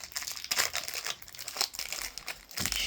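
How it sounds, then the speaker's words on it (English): Scissors snip through the cellophane wrap on a trading card wax box, producing a run of crisp crinkling and crackling bursts, close and fairly loud, with no talk. "Let's get scissors to cut the cello."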